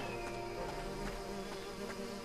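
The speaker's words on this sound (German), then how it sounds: "Das sind wilde Honigbienen." Wild honeybee nest in a video game, a steady close buzzing hum of many bees, continuous and even throughout.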